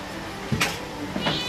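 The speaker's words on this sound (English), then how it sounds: "He's such a lovely cat." A cat at a veterinary clinic meows twice, with short, close calls separated by a brief pause, in an otherwise quiet room.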